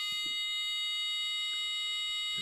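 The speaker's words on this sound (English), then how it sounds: "And then when you put that back down, alarm goes off." A homemade audio alarm wired to a mouse trap sounds after the trap is triggered, giving a steady high electronic tone with several overtones that holds throughout at low level, with faint handling clicks underneath.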